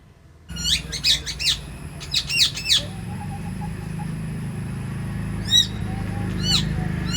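A talking pet parrot at a village home gives sharp, high calls in two quick bursts near the start, then a few isolated squawks later, close and clear over a steady low background hum.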